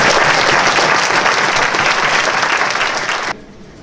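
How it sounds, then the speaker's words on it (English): Large crowd applauding at a Marine Corps recruit graduation at Parris Island, a loud, dense, sustained wash of clapping filling the whole stretch before cutting off abruptly near the end. "please, let's give a round of applause"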